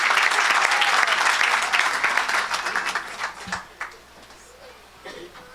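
A church congregation at a Saturday service claps loudly, then the applause fades over a few seconds, with some voices and chuckles mixed in.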